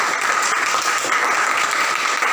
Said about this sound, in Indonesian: kita berikan tepuk tangan dulu hasil kerjanya